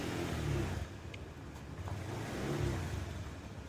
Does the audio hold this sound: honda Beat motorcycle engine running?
yes